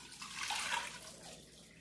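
Water poured from a container into a cooking pot for beef bulalo, a steady splashing gush that swells in the middle and then eases off, close by with no talk.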